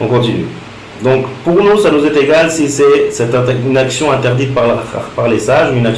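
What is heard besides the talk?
No everyday noise stands out behind the speech.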